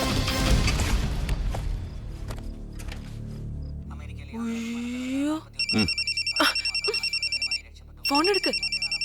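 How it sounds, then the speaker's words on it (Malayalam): A telephone rings in a tense dramatic scene: after earlier noise and a voice, a bright electronic ring sounds in repeated regular bursts, clear and close, with a short pause before the final ring. "ഫോൺ എടുക്ക്."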